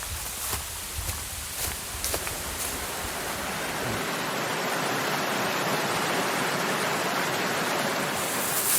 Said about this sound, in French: cette dernière cascade, c'est pas la cascade du siècle, mais c'est pas moche non plus